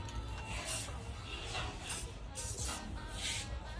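Several short hissing bursts from a spray can of gold paint, sprayed outdoors, come in an uneven rhythm, close and moderately loud, over faint background noise.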